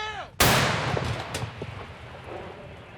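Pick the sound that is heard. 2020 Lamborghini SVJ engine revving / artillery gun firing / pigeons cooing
artillery gun firing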